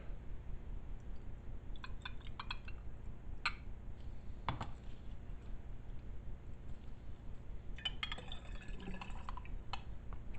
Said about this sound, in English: take your solution, pour it in here